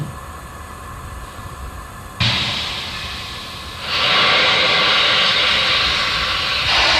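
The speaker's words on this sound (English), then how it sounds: "And there we see more of that venting occurring." A fully fueled SpaceX Falcon 9, its booster on a fifth flight, vents propellant at SLC-4E, Vandenberg, before a Starlink launch. A steady broadband hiss jumps louder in two abrupt steps and then holds as a continuous roar.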